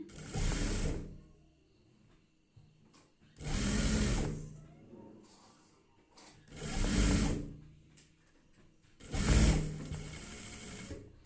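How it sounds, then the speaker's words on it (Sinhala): A sewing machine stitches fabric along the seam allowance in four separate runs, each a steady whirring burst lasting about a second, with quiet gaps between them. "මේ විදිහට මේ මැහුම් වාසි භාගයේ යන විදිහට දිගට මහගෙන යන්න"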